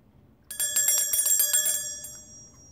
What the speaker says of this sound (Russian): Не забудьте нажать на колокольчик хоть раз в жизни.